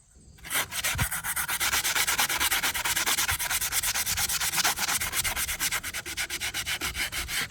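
An 80 grit pad scrubs loose paint and oxides off metal, a loud, steady abrasive rasp in rapid rhythmic strokes that starts after a brief quiet moment and runs continuously, close up and alone.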